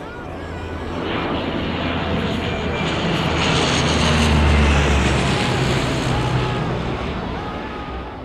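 A search plane's engine drones overhead, swelling to a peak midway and then fading as it passes, a steady deep roar heard alone without speech.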